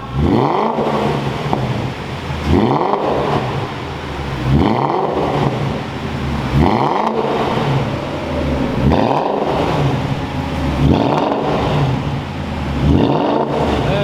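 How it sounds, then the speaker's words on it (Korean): A Range Rover revs repeatedly through a loud custom-tuned exhaust, about seven rising-and-falling pulls in a steady rhythm, close and powerful. "일단은 배기 소리 한번 들어볼게요"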